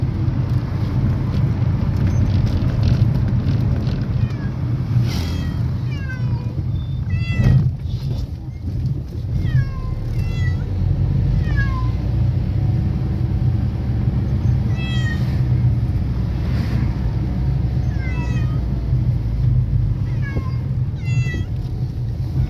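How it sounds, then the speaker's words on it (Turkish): Cats meow repeatedly inside a moving car, a series of rising and falling cries every second or two over the steady low rumble of the road. "Arkadaşlar kedilerimiz çakır söylemeye başlamışlar gençler."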